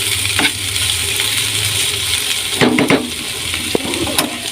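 Green banana peel frying in a pan while being stirred, continuous sizzling with scraping spatula strokes and a few clinks against the pan, close and fairly loud, no voices.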